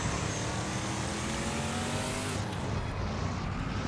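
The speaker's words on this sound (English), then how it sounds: "Oh, she's going to drive the tractor." Vehicle engine and tire noise from a tractor driven in the Lego The Incredibles video game, a steady loud drone of game audio running the whole time with no voices.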